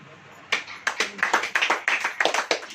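A church congregation clapping at a sermon: a run of quick, sharp, rhythmic claps, fairly loud and close, continuing steadily for a few seconds.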